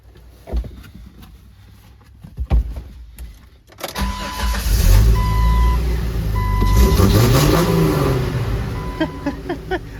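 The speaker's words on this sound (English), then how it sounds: "So here we are in the Wrangler. Fire it up, get her going." A Jeep Wrangler engine cranks and catches, then settles into a loud, steady idle with revving swells close by, following a few quieter interior clicks and knocks.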